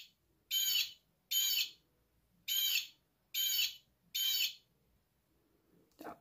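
A plush toy bird plays its recorded call: five evenly spaced, bright chirping bursts, each about half a second long, separated by short silences, close and fairly quiet, with a brief click at the end.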